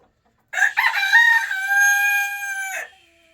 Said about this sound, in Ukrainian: Трипівника і п'ять курочок.